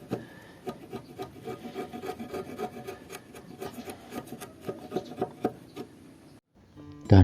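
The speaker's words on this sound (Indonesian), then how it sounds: "Setelah itu kita cukup merapikannya menggunakan pahat." A hand chisel pares and smooths a wooden beam for a Japanese tatami bed frame, giving close, uneven scraping and rasping strokes in a steady working rhythm, with a louder knock right at the end.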